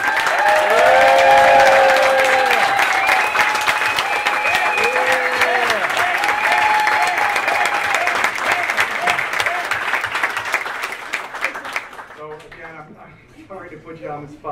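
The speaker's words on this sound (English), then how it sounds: "we just want to publicly give you a round of applause and thank you for an awesome year" Loud, sustained round of applause for a lacrosse team captain, with cheering voices and whoops over the clapping for about twelve seconds before it thins out and talk takes over.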